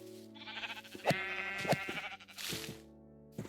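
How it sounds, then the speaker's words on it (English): Several Minecraft sheep bleat in a small group, wavering calls overlapping and repeating, close and fairly loud with no talking over them. "Now I did hear some sheep."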